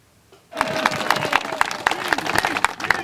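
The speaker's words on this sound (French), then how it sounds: "Une vague d'applaudissements pour le créateur du Vendée Globe, Philippe Gentot" A crowd breaks into applause for Philippe Jeantot, creator of the Vendée Globe, starting suddenly and continuing as sustained, dense clapping with sharp individual claps standing out nearby.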